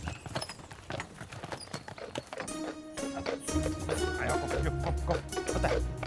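Brabant draft horses clip-clop along with steady, crisp hoofbeats on a hard surface, near and distinct, before heavier rumbling and louder ambient noise take over in the second half.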